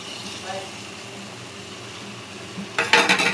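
Boiled broad beans are tipped into a pan and stirred, with a low background hum and a faint voice, ending in a sudden burst of clattering and scraping against the metal.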